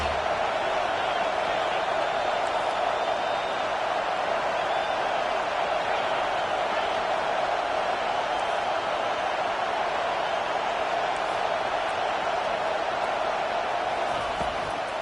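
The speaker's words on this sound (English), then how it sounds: "Decibels rising as the crowd gets behind this defense on 3rd down." Stadium crowd roaring in Madden 23 as fans get behind the defense on third down, a dense, steady wall of cheering noise that holds loud for the whole stretch without breaks.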